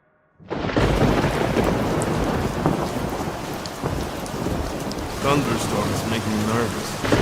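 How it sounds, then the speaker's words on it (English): Heavy, steady rain with rumbling thunder fills a stormy scene in the stealth video game Splinter Cell: Chaos Theory, starting abruptly after a brief silence and continuing loud and dense throughout. "Thunderstorms make me nervous."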